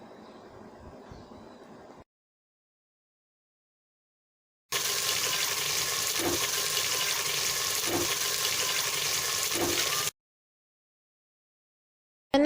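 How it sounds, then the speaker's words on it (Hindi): Potato pieces sizzling in a pan with red chili powder, a steady loud broadband hiss with a few soft pops, preceded by quieter stirring noise and a silent gap. "अब इसकी अच्छी तरह से भुनाई करूँगी"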